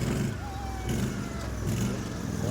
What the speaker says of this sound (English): stop revving